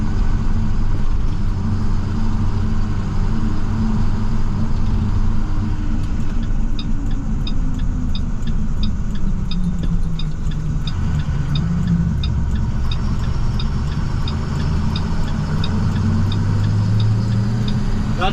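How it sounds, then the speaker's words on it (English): Inside a 2015 International TerraStar snowplow truck, a turn signal ticks in a steady, faint rhythm over the loud drone of the idling engine and cab noise, with no talking. "You probably heard the blinker there."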